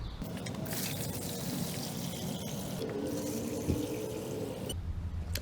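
Water pours steadily into the basin of a tile saw with a continuous splashing rush, fairly close, ending abruptly near the end with no talking.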